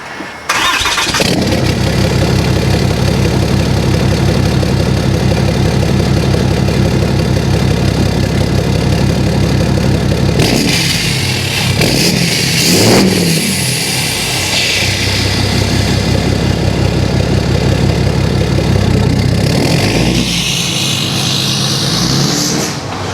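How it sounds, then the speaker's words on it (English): A straight-piped 5th gen truck with a 5-inch exhaust starts and idles with a loud, steady deep rumble, then revs up sharply a couple of times before settling back to idle, close and alone. "you can see my 5-inch exhaust kind of rustling away there"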